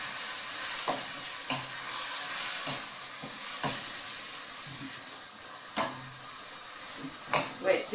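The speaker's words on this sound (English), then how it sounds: "Now we fry the pork with the garlic and onion and ginger." Pork fries with garlic, onion and ginger for Filipino adobo, giving a steady close sizzle with scattered clicks and scrapes of stirring throughout.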